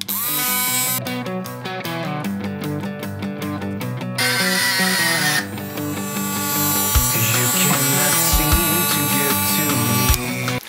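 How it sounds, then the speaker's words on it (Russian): Dnipro-M cordless rotary engraver cutting a small screw at medium speed gives a steady, loud, high-pitched whine that stutters briefly, then resumes, with a few sharp clicks toward the end and no talk. "давайте попробую отрезать небольшой саморез. Выставлю где-то средние обороты"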